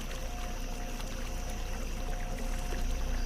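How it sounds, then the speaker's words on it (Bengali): River water laps gently and continuously against the steps of a ghat at night, a soft steady wash and trickle at low level with no voices. "নদীর জল ধীরে ধীরে ঘাটের সিঁড়িতে এসে লাগছে।"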